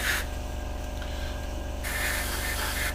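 Airbrush spraying thin coats of paint onto a Hasegawa 1/48 Harrier GR7 model, a hissing burst of air up close that cuts off briefly and then resumes over a steady low compressor hum.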